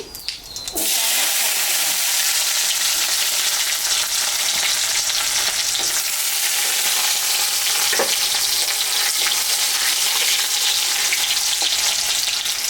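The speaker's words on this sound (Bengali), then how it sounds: "পনির ভাজা তেলের মধ্যে শুকনো লঙ্কা, জিরা আর তেজপাতা সম্বরা দিয়ে দিলাম।" Dried chillies, cumin and bay leaf hit hot oil left from frying paneer. A sudden loud sizzle bursts in and keeps up a dense, steady crackle, broken by a few stirring scrapes.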